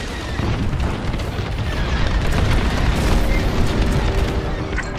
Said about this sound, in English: Detonate the core, now!